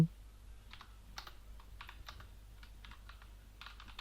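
Keys on a computer keyboard clatter in quick irregular bursts as code is typed, close and fairly soft over a low steady hum, with no voices.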